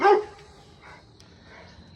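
Dogs barking: one sharp, fairly close bark opens the moment, then softer yips and whimpers trail off quietly in the background.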